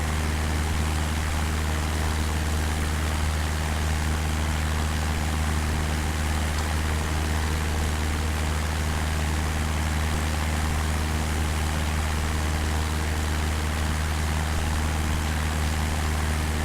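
A light aircraft's engine drones steadily inside the cabin during a flight over Swansea Bay, South Wales, as a loud, constant low-pitched hum with a propeller-like throb that never changes.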